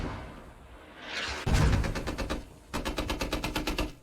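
Automatic gunfire in the Squad video game on the Kokan map, a heavy thump followed by two loud, close bursts of rapid, evenly spaced shots.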